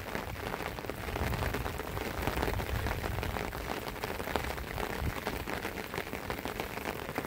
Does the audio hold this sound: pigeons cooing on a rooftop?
no